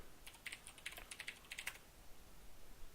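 Fast bursts of keystrokes on a computer keyboard while typing a search into a browser, quiet and close, ending after about two seconds into faint room hiss.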